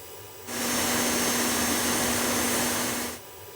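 A steady synthetic whooshing drone of synthesized robotic sounds crossfading fades in, holds with a faint tonal hum, then fades back out.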